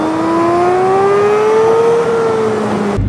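A car climbs the Uludağ mountain road near Bursa, its engine note rising steadily in pitch as it accelerates hard, loud and close, with no talking until a brief cut at the very end.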